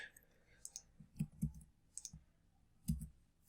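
Crisp computer mouse clicks while working in the Builderall magazine editor, several sharp close clicks spaced irregularly in an otherwise quiet room.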